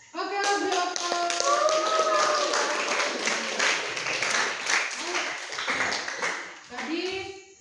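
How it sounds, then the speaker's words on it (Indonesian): A classroom of pupils claps in a dense, close burst of applause that lasts several seconds and then thins out, with children's voices over it. "Oke, beri aplaus."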